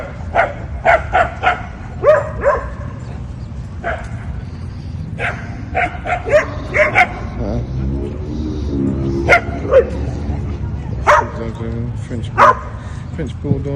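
Dogs bark and yip in a dog park in Mexico City, with short repeated barks from several dogs, some near and some farther off, mixed with a small whimper and people talking throughout.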